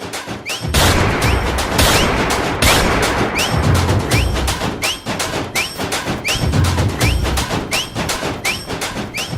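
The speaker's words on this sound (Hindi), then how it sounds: "वो गोलियां चला रही है" Rapid bursts of gunfire crack over and over, close and loud, with heavy thuds underneath and a dense, chaotic barrage throughout.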